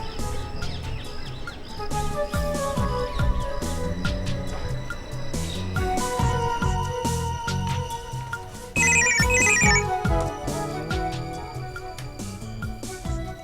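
A telephone ringtone sounds in an indoor scene of a Pakistani drama serial, a melodic electronic ring repeating over several seconds and mixed with background music, rising to a brighter, louder burst near the end.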